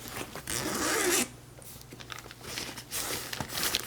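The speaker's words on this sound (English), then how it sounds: "It says this is a waterproof zipper." A waterproof zipper on a Kradul 7.5 Lux golf stand bag gets pulled open and shut in a few quick, close rasping strokes, with faint fabric rustle in between.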